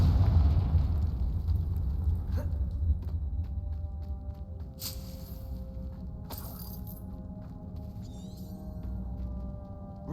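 The Confringo spell in Hogwarts Legacy detonates with a heavy rumbling blast that decays slowly, followed by sharp crackling shatters and bright magical flares spaced across the scene, with no talking.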